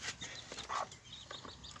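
Newly hatched chicks, just out after 21 days of incubation, peep in quick, high, thin chirps that repeat close by at an even pace.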